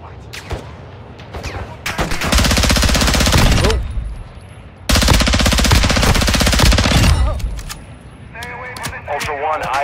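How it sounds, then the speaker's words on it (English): Automatic gunfire in the video game Call of Duty DMZ, two long loud sustained bursts with a few single shots around them, followed by game sounds and a voice speaking. "Definitely a shot's going off."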